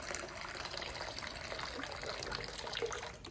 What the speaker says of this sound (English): they learn to hear that sound of that water